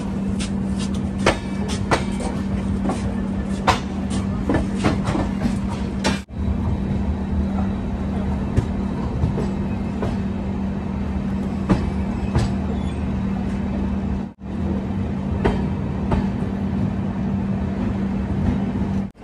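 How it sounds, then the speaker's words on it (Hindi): The Sabarmati Express runs on the rails with a steady low rumble from inside a 2nd AC coach, broken by frequent sharp clacks and rattles and two brief dropouts, with no voices. "ट्रेन अब निकल चुकी"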